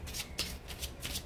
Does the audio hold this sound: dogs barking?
no